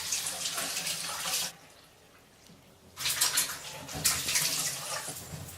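Water runs from a tap in loud, splashing bursts to rinse a peel-off face mask, pausing briefly in the middle before gushing again close by.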